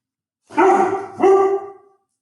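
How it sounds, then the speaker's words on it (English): A dog barks twice in quick succession, close and clear, each bark short and sharp against a quiet background. "That's my dog, Bo."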